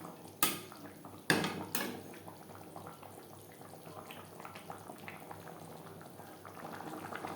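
Fried prawns cook in gravy in a pot: a few sharp clanks of utensils at the start give way to a quiet, steady bubbling simmer for the rest.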